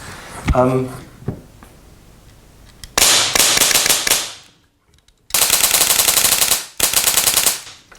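Begadi HW47 Polarstar HPA AK47 airsoft gun firing in rapid bursts, loud sharp snapping volleys in two long strings after a few single shots, close and dry, with a voice heard briefly.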